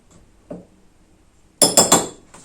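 Ingredients for cookies are mixed in a pot with a utensil, giving one soft knock followed by a quick run of three bright metallic clinks and scrapes, close by and without talk.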